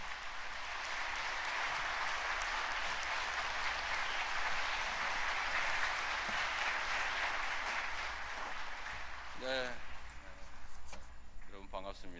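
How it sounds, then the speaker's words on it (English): Sustained applause from a large crowd at a government policy announcement, loud and steady, fading out near the end as a voice begins to speak. "Please give him a big round of applause."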